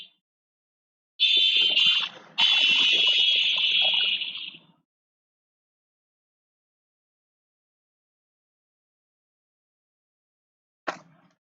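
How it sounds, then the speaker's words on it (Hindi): Quiz countdown timer for a NEET biology quiz on cell structure and function: a loud, steady electronic buzzing tone running about three seconds with a short break, then silence and a brief final beep near the end. "चलो टाइमर लगा दे रहे हैं।"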